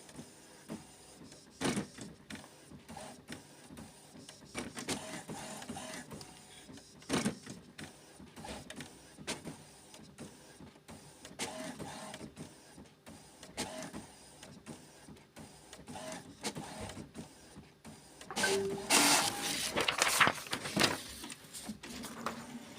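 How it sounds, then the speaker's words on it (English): An HP OfficeJet Pro 8600 printer prints a page, its carriage whirring and clicking in repeated passes with a steady hum between, growing louder near the end of the run. "It's printing the second one"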